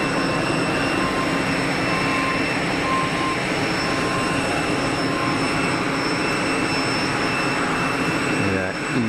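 Aircraft taxiing at Geneva Airport, including a Scandinavian Regional jet, a loud steady whine and rumble of jet engines at low thrust with faint tonal hums, continuous and close, with a voice speaking over it.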